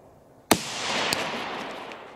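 A single sharp rifle shot from a 25-metre range as a Peregrine VRG3 Bushmaster bullet strikes 20% ballistic gelatin, a loud crack followed by a long rolling echo and a second fainter report.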